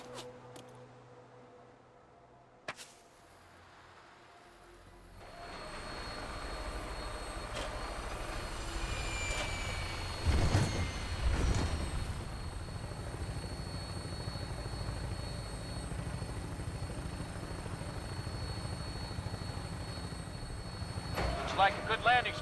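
A vertibird in Fallout 4 flies in to land, its rotor drone and engine rumble building in and holding steady throughout, with a brief louder swell midway and voices talking over it.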